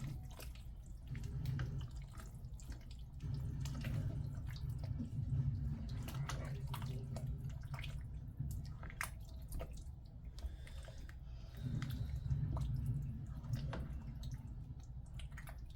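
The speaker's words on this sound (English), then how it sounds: "let me strain out the rest of this because I don't want all that water" Water from cooked tortellini drains through a strainer in a kitchen, a steady low splashing gurgle with scattered drips, continuous and close, with no talking.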